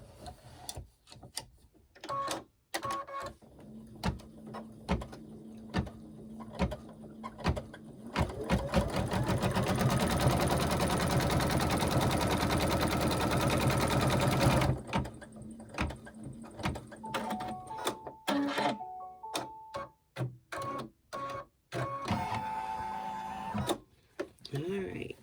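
A sewing machine stitches the side pieces of a table runner in a loud, steady run of rapid needle clatter, framed by shorter bursts of stitching and handling noises, with a person talking between runs.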